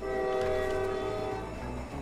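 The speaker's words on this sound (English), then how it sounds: "Here's the train, lads." A train passing in the Roblox Jailbreak video game: a loud, sustained horn-like tone over steady low rumbling rail noise, continuous for the whole moment with no talking.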